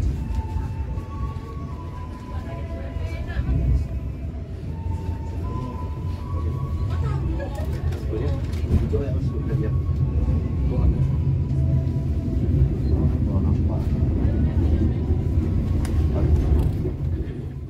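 Penataran passenger train pulling into Bangil station: a steady low rumble of wheels and engine fills the whole stretch, with faint tonal squeals of braking drifting above and voices murmuring underneath.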